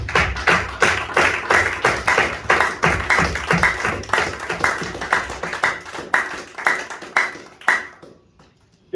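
Rhythmic group clapping from a church congregation, steady and loud with a slight stomping thud, easing off and stopping near the end.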